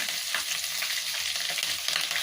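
Green chillies fry in a pan of oil while coconut rice is being made, giving a steady, close, dense sizzling hiss that holds throughout with no voices.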